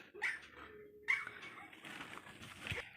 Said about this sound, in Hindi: देखो सब कुत्ते तो चिल्ला रहे हैं